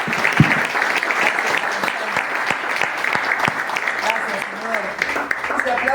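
Applause rises during an evening church service, a continuous patter of many hands clapping with sharp individual claps standing out, under scattered voices and a speaker talking over it.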